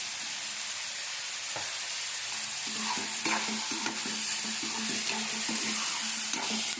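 Colocasia curry with onions fries in a pan while salt and turmeric are stirred in, a constant sizzle running under repeated scraping, clinking strokes of a spoon against the pan.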